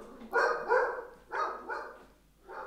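A dog barks indoors in short bursts, about four barks in quick pairs with a pause between, fairly close and moderately loud with no talk over them.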